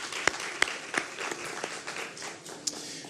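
A round of applause from the audience at a press association anniversary symposium and lecture in Ghana, heard as faint, scattered claps with a few sharper single claps over a short stretch, fairly distant.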